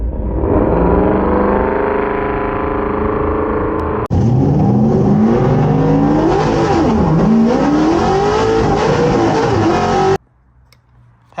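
A Ford Torino GT drag car sits loud and close on its 2-step limiter, gives a brief break, then roars off the line with rising, wavering revs. The sound cuts out sharply near the end.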